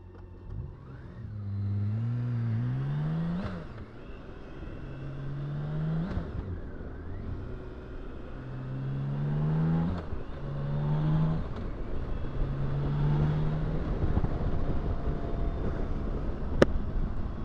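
Large touring motorcycle, a Honda Goldwing or BMW K1600B, on a test ride, engine revving up and down in several rising and falling sweeps over steady road and wind rumble, fairly close, no talking.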